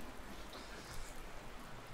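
Rain falls in a steady, even hiss that stays faint and continuous throughout, with no voices over it.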